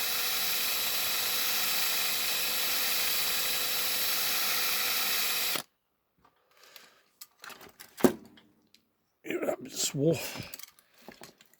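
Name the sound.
drill slowly drilling out a plastic rivet post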